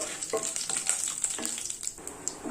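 Chana dal and cashews roasting in a pan for semiya upma, with a steady bright sizzle and scraping stirs recurring throughout, close and moderately loud, no voices.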